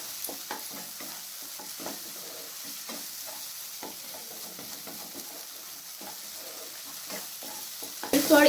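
Mushrooms with salt and turmeric are stirred in a pan over medium-low heat, giving a soft continuous sizzle and occasional scraping strokes. The sound is fairly quiet and steady, with a louder clatter right at the end.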